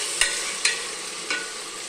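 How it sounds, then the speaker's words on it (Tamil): Drumsticks sauté in a hot pan with a steady sizzle, and three sharp clacks of a spoon against the pan stand out clearly above it. "இப்போ இந்த முருங்கைக்காவை போட்டுக்கலாங்க. போட்டு நல்லா வதக்கிக்கலாங்க."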